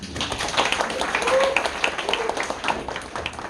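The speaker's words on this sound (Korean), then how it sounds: "박수 한 번만." Applause from club members at a university club orientation meeting, a dense steady patter of clapping lasting the whole few seconds, with some voices mixed in.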